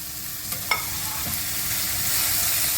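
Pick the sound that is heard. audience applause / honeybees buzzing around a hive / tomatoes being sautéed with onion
tomatoes being sautéed with onion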